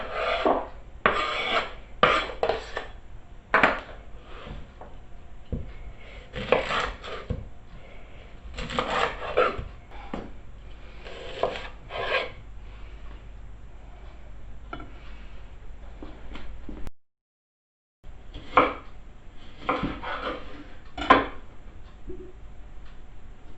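A knife chops and slices a red onion on a cutting board in a home kitchen, giving close, crisp bursts of rasping cuts in rhythmic clusters with short pauses between them, and no talking.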